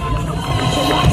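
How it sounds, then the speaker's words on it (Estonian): A large event crowd cheers and applauds loudly and steadily at a motorsport gathering, the noise dense and continuous with shouts rising near the end. "Aplaus!"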